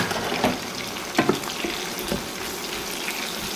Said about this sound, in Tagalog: Yan guys, gisa muna natin yung sibuyas.